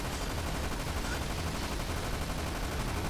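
Minigun in the video game Dirge of Cerberus firing continuously, a dense unbroken roar of rapid shots holding steady at loud level for the whole stretch with no pause.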